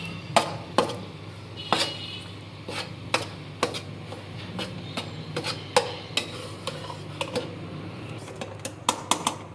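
Chana dal is roasted in ghee for dal halwa and stirred in the pan, heard as a string of sharp spoon clicks and scrapes over a low steady hum.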